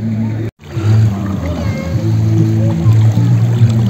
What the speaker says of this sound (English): I love this sound of water, whether it's river or waterfall.